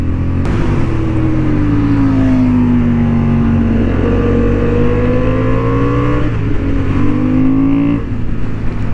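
A Honda Hornet 750 motorcycle engine revs and accelerates loudly up close on a racing track, its pitch climbing and falling through gear changes, steady and unbroken with no speech.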